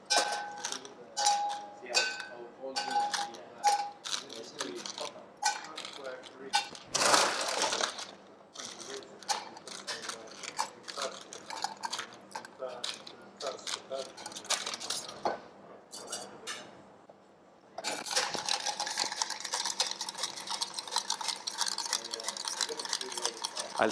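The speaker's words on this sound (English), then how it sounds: "I'll stir it very, very well to be diluted." Ice clinks and rattles against a mixing glass as a cocktail is stirred, a steady run of small, close knocks with a louder, denser stretch toward the end.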